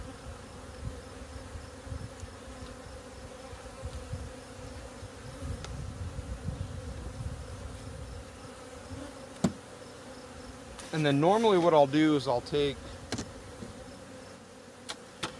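Honey bees buzzing around a nuc hive being installed in an apiary, a steady low hum of many bees close by, with someone speaking briefly over it and a few knocks near the end.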